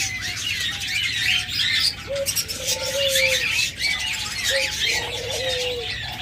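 Lovebirds in a crowded bird shop keep up a steady chatter of high chirps and tweets, with scattered lower calls mixed in, close and fairly loud throughout.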